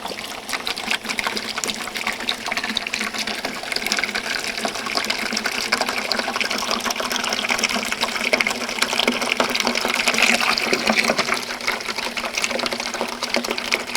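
Steady rushing and trickling water runs throughout, a continuous close wash of liquid drawn through a homemade emergency water filter, with no voices.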